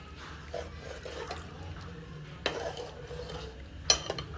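A pot of chicken pulao with four glasses of water just added is stirred, giving soft liquid sloshing and a few sharper utensil clinks against the pot over low background hum, with no talking.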